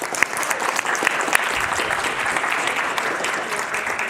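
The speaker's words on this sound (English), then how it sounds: "Please give her a round of applause." A room of people applauding a speaker at a business event, dense sustained clapping with a few sharper nearby claps, loud and continuous.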